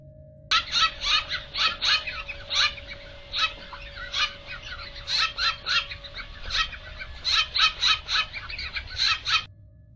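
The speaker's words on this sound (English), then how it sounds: "This is one bird bullying another." Birds squawk in quick, loud bursts of harsh, rapid calls as one bird bullies another, the calls clustering irregularly over a faint steady hum.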